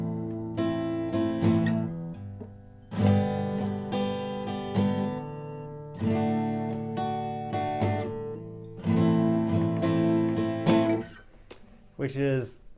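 Acoustic guitar strumming chords in bursts with a stumbling, uneven rhythm, each chord change leaving a brief gap or smear as the next shape settles; up close and moderately loud, no voices.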